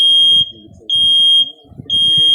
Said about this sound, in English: Heads up, there's smoke in the entryway. The alarm may sound.